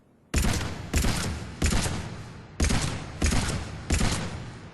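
Six sharp, loud Carnifex pistol shots in Mass Effect 3, fired while aiming down sights, spaced about half a second to a second apart, each with a short decaying tail and no talk.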